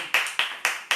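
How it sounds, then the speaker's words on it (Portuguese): Four crisp hand claps at a steady, even pace, close and fairly clear, from one person clapping at home during a worship service, with no talking. "Você pode aplaudir o Senhor na sua casa aí?"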